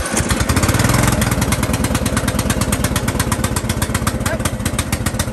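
A lawn mower engine runs steadily and loud throughout, its rapid pulsing drone close by and uninterrupted.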